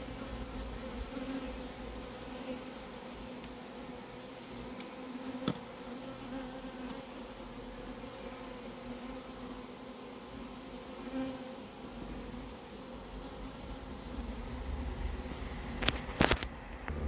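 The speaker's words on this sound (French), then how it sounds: "récupérer les abeilles qui sont autour" A dense, steady drone of a swarm of honeybees buzzing all around, continuous and fairly close, with a few sharper passes of individual insects near the end.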